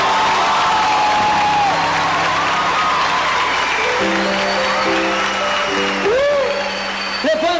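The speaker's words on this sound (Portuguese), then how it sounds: "Uma salva de palmas para Maria Santíssima" A church audience breaks into sustained, loud applause with cheers and whoops. Voices call out over the clapping, which rolls on for the whole stretch before easing slightly at the end.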